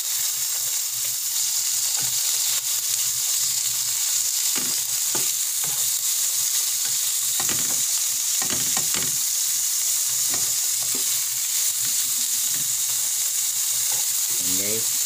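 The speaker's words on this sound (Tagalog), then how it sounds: "Lalagay na pala natin yung tuna." Tuna sizzles steadily in a hot pan while ginataang tuna is cooked, a constant crackling fry with occasional utensil stirs and clicks, close by and uninterrupted.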